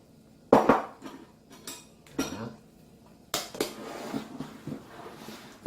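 Minced garlic being added to a bowl with a spoon while preparing Korean spicy chicken feet, a few sharp clinks and scrapes of metal against the dish with quiet gaps between.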